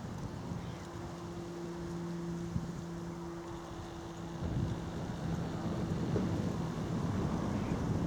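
Bitter north-westerly wind buffets the microphone on a hilltop walk about 200 feet up, a low, continuous rumble that grows stronger partway through, with a faint steady tone underneath and no talking.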